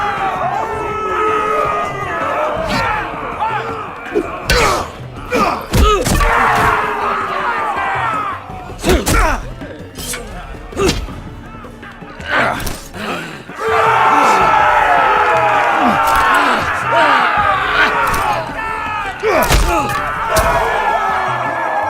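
An arena crowd in the fighting pit of Telltale's Game of Thrones video game cheers and roars loudly throughout, with swelling shouts, battle cries and heavy thuds breaking through the continuous din.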